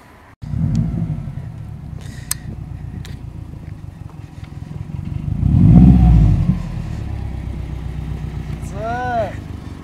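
New Subaru car arriving, a low engine rumble idling nearby that swells into a loud rev midway, then drops back, with people talking over it.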